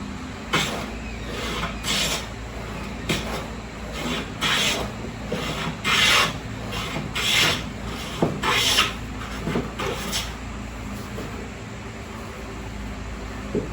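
A hand plane takes shavings off a wooden dowel in a workshop, producing a series of rasping strokes at an uneven pace, roughly one every second or so, over a constant background hum.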